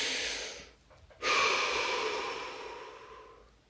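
A deep breath is drawn in slowly, followed after a short pause by a long, loud, steady exhale that gradually fades, heard up close with no talking.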